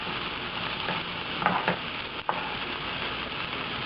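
Vegetables stir-frying in a pan for shrimp with quail eggs and green peas, a steady close sizzle with a few brief scraping stirs and no talking.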